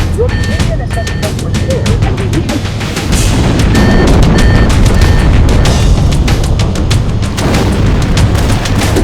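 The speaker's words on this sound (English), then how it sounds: "Use explosives on the other 3 reactors." Loud, dense explosions rumble through the fusion reactor area of the video game Halo: Combat Evolved, with repeated blasts and crashing debris forming a continuous roar over the full stretch.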